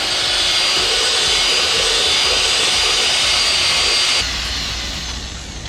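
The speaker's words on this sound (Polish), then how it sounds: "Ma jakiś taki lekki... Turkot silnika." A steady loud engine drone like a motor or blower runs continuously, dropping to a lower, slightly softer hum near the end, heard alone on a plastering job with scaffolding.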